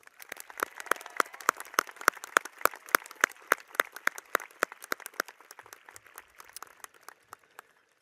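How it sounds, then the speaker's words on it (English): A small, sparse round of clapping for staff members at a high school commencement, with distinct individual claps in a quick irregular rhythm that thin out and fade toward the end. "Let's give these staff members a round of applause."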